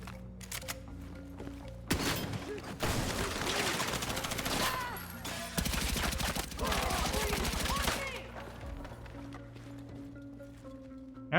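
Rapid bursts of automatic gunfire from the video game Battlefield 6 during a room breach, loud sustained volleys with short gaps between them, over a low background rumble.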